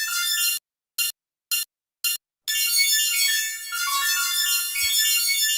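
Electronic MIDI track rendered from a mathematical equation: bright synthetic tones in short stuttering bursts broken by silent gaps, then a continuous dense busy passage, loud and close, with no voices.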